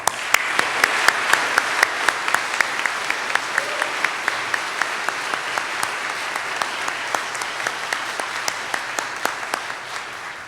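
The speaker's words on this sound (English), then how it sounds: "I want to applaud you." Audience applause at a law school spring commencement, broad steady clapping from a large crowd with sharp individual claps standing out above the wash.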